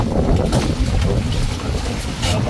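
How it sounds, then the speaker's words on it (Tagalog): Wind gusting over open sea at night during a fishing trip aboard a small outrigger boat, a loud broadband rush buffeting the microphone with waves and hull noise beneath, no talk. "Kahit na mahangin."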